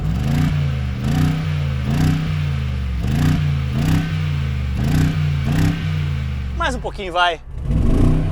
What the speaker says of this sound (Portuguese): que outro V8 tem um escape na lateral ao estilo Dodge Viper hoje em dia? E borbulha aqui